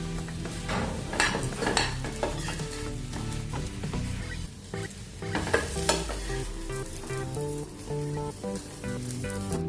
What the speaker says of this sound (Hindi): ये देखिए अच्छे से 2 मिनट हमने तल लिया है।